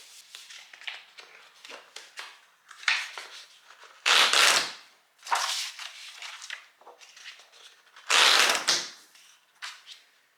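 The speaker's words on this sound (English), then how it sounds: "using a sewing machine here to bind the sheets of paper" A sewing machine stitches through folded paper sheets to bind a sketchbook, with short bursts of rattling mechanical noise between quieter paper shuffling and handling.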